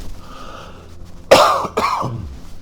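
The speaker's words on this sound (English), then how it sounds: "I'm going to cough in 1 second, excuse me." Two sharp, close coughs in quick succession from a person getting over a cold, following a low mechanical drone of a King Air 350 aircraft in the background.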